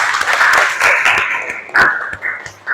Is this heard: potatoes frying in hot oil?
no